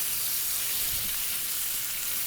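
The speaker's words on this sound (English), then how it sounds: "you can see the bacon is frying up here." Bacon sizzles and crackles steadily in a pan, a soft, constant hiss close by.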